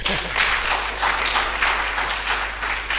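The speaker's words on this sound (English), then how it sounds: "Let's clap for ourselves." Audience at an agriculture and entrepreneurship consultation day claps together in a steady, full round of applause that stays loud and even throughout, with no talk over it.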